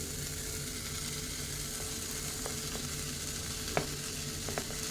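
Finely chopped ghevda beans sizzle steadily in a hot pan in a small home kitchen, a continuous even frying hiss with a few faint clicks near the end.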